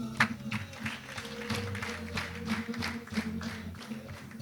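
Wedding guests applaud with scattered, uneven claps over several seconds, a moderately distant crowd sound that continues steadily with faint background murmur.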